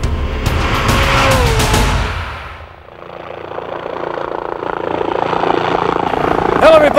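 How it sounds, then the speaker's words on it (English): Loud helicopter rotor noise thumps close by, fades briefly, then a steady engine rumble builds again, ending with a high whine. "I'll tell you about these helicopters in a moment"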